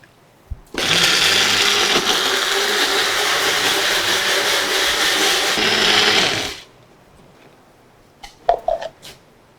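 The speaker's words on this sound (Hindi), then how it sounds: "देखिए बढ़िया तरीके से ये ग्राइंड हो गई है। चिली पेस्ट तैयार है।" An electric grinder runs loud and steady for about six seconds, grinding soaked chilies with a dash of water into a paste, then stops, followed by a few brief clinks.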